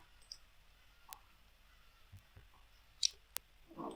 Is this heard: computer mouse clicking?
yes